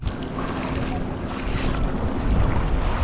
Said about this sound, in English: All right, now we're motoring.